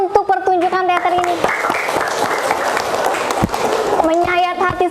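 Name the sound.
applause for a theatre performance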